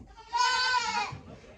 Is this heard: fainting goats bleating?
yes